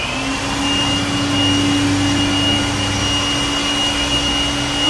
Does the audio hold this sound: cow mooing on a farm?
no